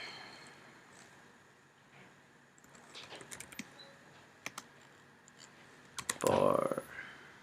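Someone types on a computer keyboard in a quiet room. Sparse, light key clicks come close together, with a short denser burst of keystrokes near the end.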